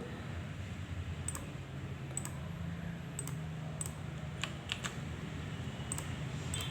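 Keys clatter on a computer keyboard while someone types a document in MS Word, with sparse, irregular clicks over a constant low room hum.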